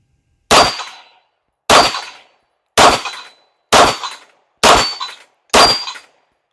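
Six loud, close shots from a CZ 75 BD pistol come in an even, steady rhythm about a second apart, each a sharp crack with a short ringing decay and no voices.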